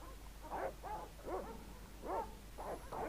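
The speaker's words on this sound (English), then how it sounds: "Oh, the dogs." Dogs in the Broken Sword: Shadow of the Templars PC game bark in a run of about six woofs at uneven intervals, muffled and moderately loud, with no talking over them.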